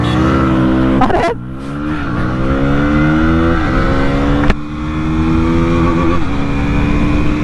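KTM Duke 160 and Yamaha MT-15 motorcycles revving hard side by side in a drag race, their engine notes climbing steadily through the gears with two sharp breaks at gear changes, loud and close throughout.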